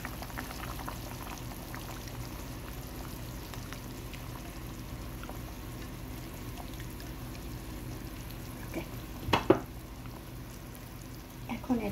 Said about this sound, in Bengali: এখন দিয়ে দিব টমেটো পিউরি।